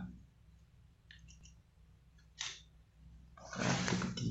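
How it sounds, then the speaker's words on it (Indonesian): Tarot cards drawn from a deck during a reading: a few faint clicks and soft rustles, then a louder, longer burst of card handling near the end, close and without talk. "Oke, kita tarik beberapa kartu."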